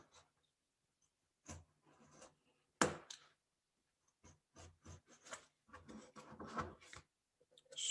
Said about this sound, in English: I'm putting pressure near where I'm cutting so that the paper doesn't bunch up as much